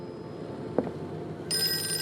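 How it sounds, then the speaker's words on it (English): Old-fashioned telephone bell ringing inside the horror game Call of Cthulhu, a bright sustained electronic ring starting partway through after a brief thump, steady and fairly close against a quiet ambient background. "Oh, phone's ringing."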